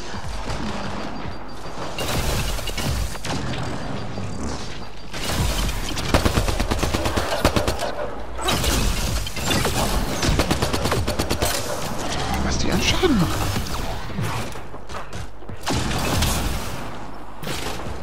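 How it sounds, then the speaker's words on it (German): Gunfire in the video game Mass Effect Andromeda during a fight with a cardinal: repeated bursts of automatic weapon fire and scattered impacts through a busy combat soundscape, with occasional talk in between. "die schießen auf den Kardinal"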